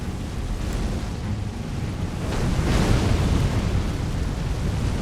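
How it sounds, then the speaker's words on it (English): Sustained roaring, rumbling blasts from enemies in Elden Ring Shadow of the Erdtree, a dense continuous wash of explosive noise that swells slightly midway, with no talking. "They do a lot of explosions."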